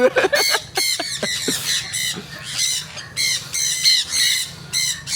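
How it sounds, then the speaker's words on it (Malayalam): Birds squawk loudly and repeatedly around the head at Khao Yai Fantasy Resort, a family resort with a water park, with harsh, closely spaced calls that overlap and continue throughout. "തലയിൽ കൂടെയൊക്കെയാണ് കിളി വരുന്നത്"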